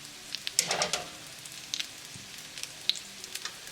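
Coconut-crusted salmon fillets fry in a pan under a splatter screen, giving a soft, continuous sizzle with scattered crackles and small pops.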